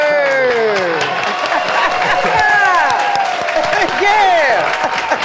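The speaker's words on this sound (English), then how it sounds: "So if you could please clap it up, show some love for this Chicago native" Studio audience clapping and cheering to welcome Chicago native Cornell Ford, a loud steady applause with lively whoops and shouts woven through it.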